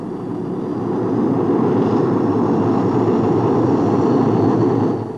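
A jet-powered fighter aircraft of an early Soviet-era type roars steadily and loudly, its engine noise swelling in and then holding level with no voices over it.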